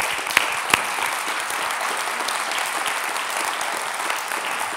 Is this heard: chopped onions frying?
no